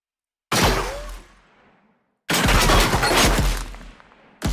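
A rifle shot effect for a game's muzzle cue: two loud, sharp gunshot blasts, each with a long rumbling tail, the second denser and burst-like, with no talk.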